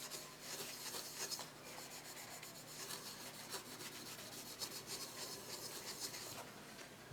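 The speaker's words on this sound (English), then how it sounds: "just give it another quick rub" Chrome-finish plastic being rubbed quickly by hand during polishing, a faint, steady scrubbing rasp with light rhythmic strokes and no talking.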